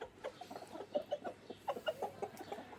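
Australorp chickens cluck in a steady run of short, repeated calls, close by and fairly loud, with no voices over them.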